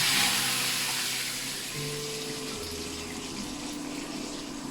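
Seasoned water is poured into salted marinade ingredients for homemade char siu pork, giving a steady splashing pour that runs the whole time and fades slightly, with no voices.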